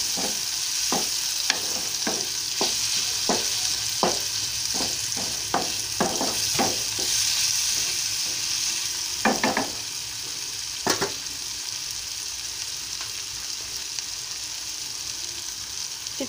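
Onions frying in a pan for chittikakarakaya curry, a steady close sizzle with a series of sharp scraping stirs in the first seven seconds, then a few more stirs later as the frying hiss continues.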